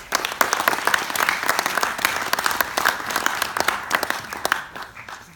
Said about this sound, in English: Big applause for Azriff.